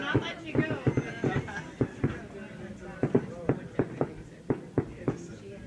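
Fourth of July fireworks seen from the porch of the Westlawn Inn, a steady series of sharp, distant booms and pops every half second or so, with people chatting quietly underneath.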